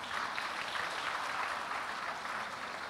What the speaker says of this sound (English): So let's give our panelists one round of big applause.